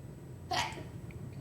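A single sharp sneeze bursts out close by over a low background hum during a county commission meeting.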